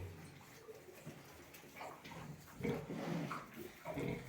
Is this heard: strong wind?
no